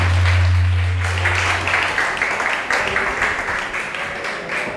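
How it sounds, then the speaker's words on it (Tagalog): Applause from a congregation during a church service, a steady wash of clapping that fades slightly, with a low organ or keyboard tone at the start and some faint voices underneath. "Yun the best pong palakpak para kay Jesus"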